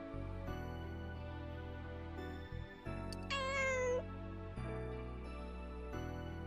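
A kitten gives one clear, rising-then-falling meow over a steady background of music.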